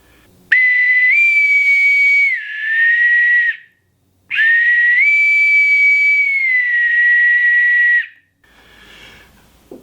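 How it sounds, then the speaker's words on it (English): A boatswain's whistle blown in two long, loud, shrill calls, each with a rising step in pitch, separated by a short gap and followed by a faint trailing hiss. "they would then know what to do as they heard the boatswain whistle"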